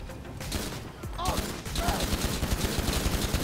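Rapid gunfire in GTA V is aimed at a glass window, a fast dense run of close shots that starts after about a second and keeps going. A voice may sit faintly beneath the shots.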